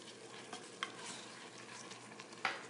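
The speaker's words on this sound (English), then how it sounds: "this will flavor the meat while it continues to brown just a little bit" Ground meat browning in a pressure cooker, giving a faint continuous sizzle with a few sharp scrapes and clinks of a spoon stirring against the pot.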